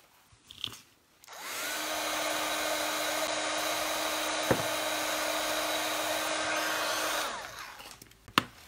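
A hair dryer blows on wet gesso and a flower in a mixed media craft session, running loud and steady close by for about six seconds before switching off, with small handling knocks around it.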